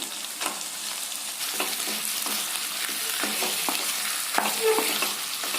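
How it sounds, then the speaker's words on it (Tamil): Chicken pieces for Coimbatore-style chicken fry sizzle and crackle in hot oil while being stirred, with occasional scraping and clinks of a utensil against the pan. "நல்லா இந்த ஆயில்ல 1 நிமிஷம் பெரட்டி விடுங்க"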